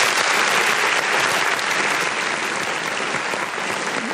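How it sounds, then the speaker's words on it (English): A large crowd applauding loudly and steadily, a dense wash of clapping that holds at full strength throughout. "A round of applause for everyone I forgot to give it"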